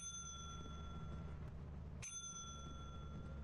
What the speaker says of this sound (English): I guess I'll ring the bell for this one.